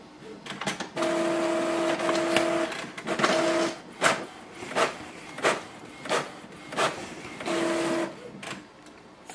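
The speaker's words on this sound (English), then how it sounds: "The printer is working and it is connected." An Epson XP-970 inkjet printer printing a test page, heard up close with no talk: steady motor whirring with bursts of tonal whine, then a regular run of rhythmic clacks and shuttling thumps as the paper feeds and the print head moves.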